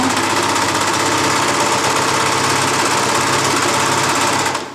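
A sewing machine stitching knit fabric runs continuously and loudly at a steady fast pace, its rapid mechanical rattle filling the whole stretch before stopping abruptly at the end.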